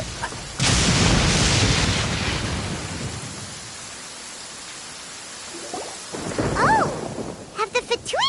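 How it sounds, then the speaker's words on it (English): Thunder from the Genshin Impact game world: a sudden loud rumbling crack that slowly fades into a low roll, followed by faint rain-like hiss and a few short bright game tones at the end. "Paimon hears thunder!"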